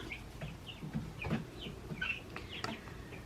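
Soft, scattered chirps and clucks from chickens a little over four weeks old, quiet and close, with small rustling sounds between the calls.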